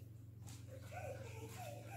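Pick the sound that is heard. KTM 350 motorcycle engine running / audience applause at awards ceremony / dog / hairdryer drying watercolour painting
dog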